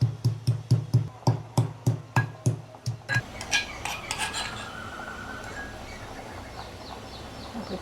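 Garlic, ginger and chillies pounded into a paste, about a dozen sharp, evenly spaced thuds up close, followed by a softer grinding and scraping.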